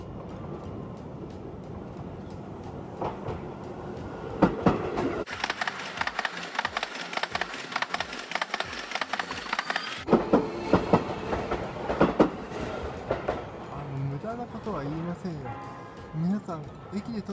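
A Seibu Line electric commuter train with Doraemon wrapping rolls through with rhythmic clickety-clack of wheels over rail joints, loud and near, while people talk over it.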